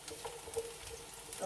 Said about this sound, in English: our onions are cooking